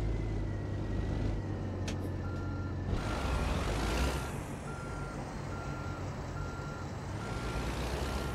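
Steady electronic reversing beeps from a long heavy truck in a trucking simulator game, evenly spaced tones over a low idling engine rumble, with a brief hiss of air brakes.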